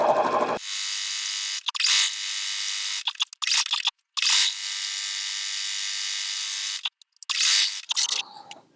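A sewing machine stitches appliqué in a series of close, loud motor bursts of a second or two each, separated by brief stops and restarts.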